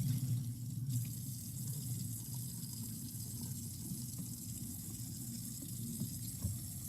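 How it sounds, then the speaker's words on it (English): Kitchen sink faucet runs in a steady, soft stream for dish washing, a constant low wash of water with faint clinks and no talking. "turn on sink and check water temperature"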